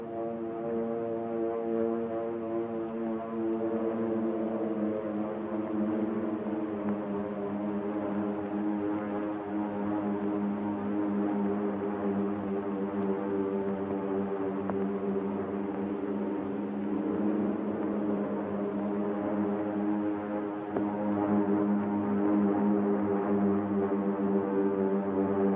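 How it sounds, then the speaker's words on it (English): A steady, faint drone of approaching aircraft over the Pacific toward Pearl Harbor in 1941, a continuous layered hum of engines that holds level throughout and swells slightly near the end, with no talk. "the drone of planes was faintly heard"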